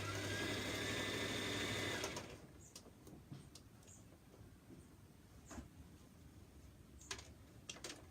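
A sewing machine stitches in a steady close whir for about two seconds, then stops; scattered light clicks and handling taps follow in a quiet room.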